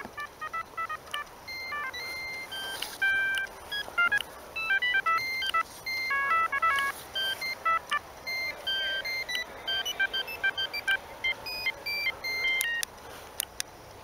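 A Siemens C6V mobile phone, a Vodafone variant of the C65, plays a simple EMS ringtone: a thin, beeping monophonic melody of quick, evenly spaced tones that carries on steadily for about fourteen seconds.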